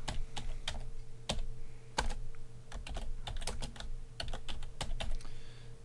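Rapid, uneven keystrokes on a computer keyboard, close and clear, with short pauses between bursts as a title is typed into 3D text software.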